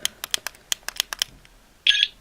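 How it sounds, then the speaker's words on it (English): A Doctor Who sonic screwdriver toy gives a series of short, sharp electronic chirps in a quick uneven rhythm, then a brief, harsher buzzing alarm tone near the end, close and fairly quiet. "Press it 4 times, it makes a really annoying alarm sound."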